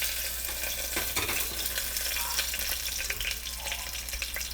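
Two bay leaves crackle and spit in a tablespoon of hot sesame oil while making chana masala gravy, a steady close sizzle with light splatter and a faint scrape of stirring throughout.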